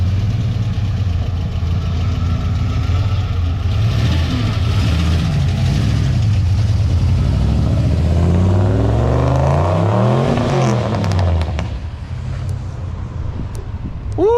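A Honda EG hatchback engine cranks, catches and runs, idling roughly before revving up and settling again, loud and close with no voices.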